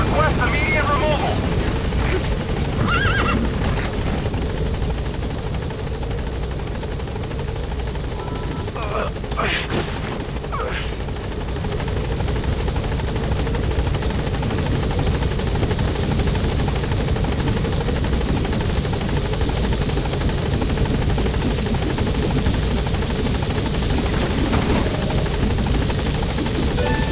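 Helicopter rotor drone from the Metal Gear Solid 5 video game, a steady loud whirring hum throughout, with radio voices speaking over it.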